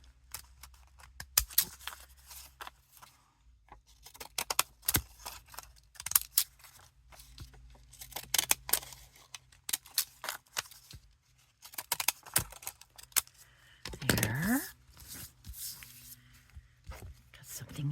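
Scissors snip through paper and lace for a craft cluster, quiet sharp cuts in irregular bursts with pauses between, and a soft voice at times.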